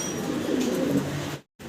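Fancy Andalusian pigeons coo softly and steadily for over a second in a loft, low warbling calls close by, then a brief silence before the murmuring resumes.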